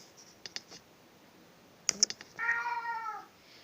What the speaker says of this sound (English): I heard my cat. He wants to come in.